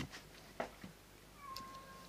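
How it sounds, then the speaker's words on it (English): A stray cat meows a few short, faint calls in quiet surroundings, spaced irregularly over about two seconds, with a thin rising whine at the end. "that is a stray cat that my wife adopted"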